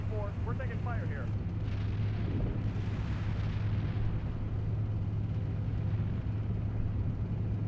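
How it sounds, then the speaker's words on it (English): Incoming fire striking tanks during a Steel Beasts tank battle, heard as continuous rumbling blasts and explosions under radio chatter and a steady engine hum. "we're taking fire here"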